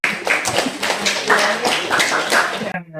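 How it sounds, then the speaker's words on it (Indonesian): Classroom applause in an Indonesian university lecture, a dense patter of many hands clapping steadily and loud for nearly three seconds before cutting off abruptly. "Oke, tepuk tangan untuk Dila."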